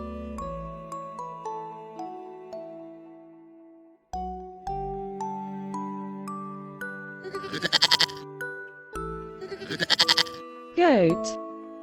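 Two bleating bursts from a goat rise above a bright, plinking piano-like melody. A short descending whistle follows them. No one speaks.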